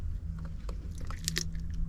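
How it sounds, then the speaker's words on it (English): An animal bites and chews on a chunk of raw fish, with close, wet crunching in quick irregular bites over a low steady hum. "You can hear him crunch. crunching on that."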